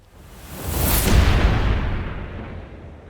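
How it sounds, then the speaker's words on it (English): A rocket launcher fires in the shooter game Splitgate, one deep booming blast that swells and rolls off over a few seconds, loud and alone. "I love using the rocket launcher."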